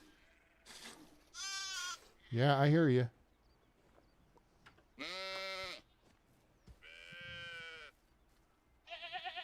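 Sheep bleat on a farm in the game Medieval Dynasty, several loud separate wavering cries spaced a second or two apart, close by, with a brief spoken remark between them.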